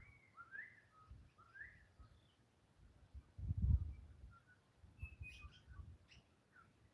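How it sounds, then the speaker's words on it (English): Birds, including currawongs, call in the distance, whistled chirps and warbling notes repeating over a low rumble of wind. "Can you hear those birds?"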